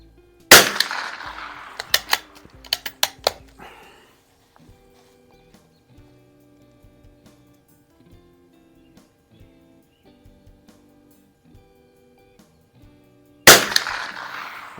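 A .22 LR rifle firing Federal Auto Match ammunition at a 50-yard range: a loud crack, a few quick sharp shots and clicks, a long quiet stretch with faint mechanical sounds, then one more loud report.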